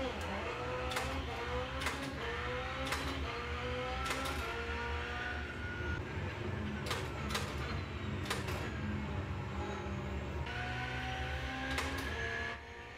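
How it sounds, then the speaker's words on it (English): Pro-Sim Lite V1 and V2 sequential shifters clicking through repeated shifts, sharp ticking knocks at irregular intervals over a steady low background hum. "The V1, to me, again, has that high-pitched tinking noise that is absent in the V2"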